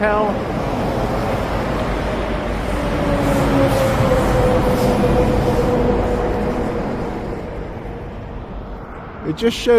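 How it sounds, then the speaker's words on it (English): A low rumbling train passes at a distance near Rockville Bridge, a long stone railroad bridge, a broad steady roar that swells slightly and then fades near the end. "I hear a train"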